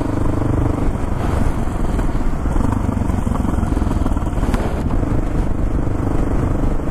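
A motorcycle rides on wet roads on a cold morning, its engine a loud, steady close drone mixed with wind rush and tire hiss, continuous with no talking.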